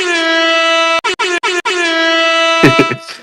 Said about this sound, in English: my favorite soundboard thing is the air horn